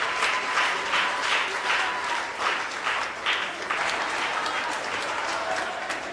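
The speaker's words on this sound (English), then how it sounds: "Give yourself a wonderful round of applause." A theatre audience applauds at a stage play, sustained and fairly loud clapping from many hands, rising and falling slightly over several seconds with light crowd murmur.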